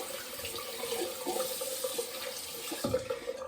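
A tap runs while a shaving razor is rinsed under it at a sink, a steady close rush of water with small splashes and clinks, no voices.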